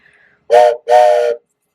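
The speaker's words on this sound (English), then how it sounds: "So this is the train whistle I use when it's time to switch. I just blow it twice like this." A teacher's train whistle sounds twice up close, two loud, sustained steam-style blasts of under half a second each, separated by a short gap.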